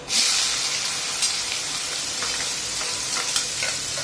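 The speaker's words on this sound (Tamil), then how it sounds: "கொஞ்சம் சட்டியில் எண்ணெயை விட்டுருக்கேன் கொஞ்சம் ஜீரா பொரியணும் இதோ ஜீரா பொரிஞ்சாச்சு அடுத்தது வெங்காயம்" Sliced onion drops into hot oil with crackled cumin seeds in a pan, bursting into a loud, steady sizzle with faint stirring scrapes throughout and no talking.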